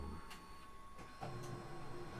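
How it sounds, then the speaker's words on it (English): A filament cutter on a Creality Hi Combo 3D printer snaps through filament in a few brief, sharp mechanical clicks and slides over a steady low printer hum, heard up close indoors with no talk. "That's it doing its thing with the filament cutter."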